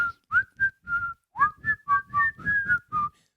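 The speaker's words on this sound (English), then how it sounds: "Somebody's whistling in the hallway." Someone whistling a melody in a hallway, heard through a door: a clear, steady run of about a dozen pitched notes in a distinct rhythm, alone and without talk.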